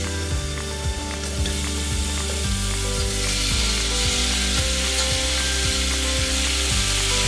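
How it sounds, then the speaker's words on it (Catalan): Chopped onion sautés in hot oil for a red lentil soup, giving a steady bright sizzle broken by regular scraping stirs, close and alone with no talk. "Afegim un raig d'oli i quan sigui calent afegirem la ceba per saltejar-la."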